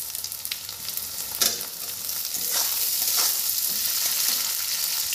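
Chopped tomato goes into a pan of onions fried until red for a mutton curry, and the mix sizzles steadily while a utensil stirs and scrapes through it, with occasional clinks and no talk.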